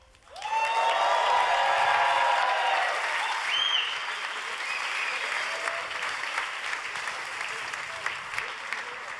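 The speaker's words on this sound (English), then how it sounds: "And please, a big applause for the fastest man on the road, our chief test driver, Andy Wallace." An audience at the Bugatti Tourbillon unveiling breaks into sustained applause, loud and full from the start and gradually thinning, with faint cheers scattered through it.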